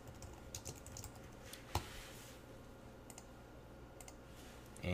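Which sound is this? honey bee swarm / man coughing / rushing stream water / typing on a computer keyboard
typing on a computer keyboard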